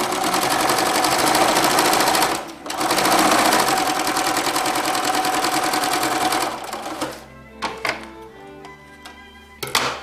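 A sewing machine stitches a zippered pouch in fast, steady runs of mechanical whirring, pausing briefly, then stopping into scattered clicks and thunks as the fabric is adjusted.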